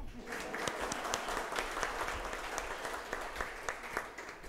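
A graduation audience applauds in a hall, a steady, moderately dense clatter of many hands with distinct sharp claps standing out, somewhat distant and even throughout.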